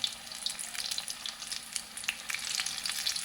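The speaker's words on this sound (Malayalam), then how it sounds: "എണ്ണ ചൂടായിട്ട് ഇടാവും കേട്ടോ" Sweet corn vada batter fries in hot oil with a steady close sizzle and light crackling pops that continue throughout, and no talking.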